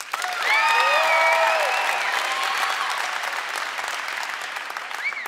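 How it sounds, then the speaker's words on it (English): Church congregation applauding loudly as a show-of-hands style vote, steady dense clapping with cheers and whistles on top, fading slightly toward the end. "Let's vote by round of applause."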